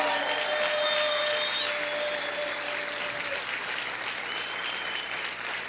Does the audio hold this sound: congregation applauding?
yes